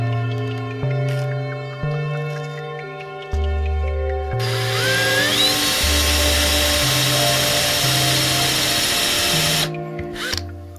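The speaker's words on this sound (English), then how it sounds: "with the right drill bit, it drills." A power drill bores into a Star Wars Legion miniature base, a steady high whining grind running for several seconds after an opening stretch of musical tones, then cutting off near the end.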